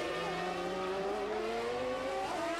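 Formula 1 race car engines from the 1994 season scream at high revs, a loud sustained whine with rising and falling pitch as cars pass on the circuit, with several engine notes layered together.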